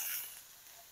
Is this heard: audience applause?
no